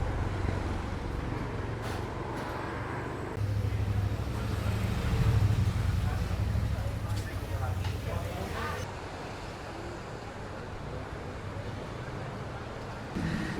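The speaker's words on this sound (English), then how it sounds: "My goodness, it is so windy." Strong September wind on a beach at Santa Ponsa, Mallorca, roaring into the microphone as a continuous low rumble with gusts, over distant surf, while someone talks throughout.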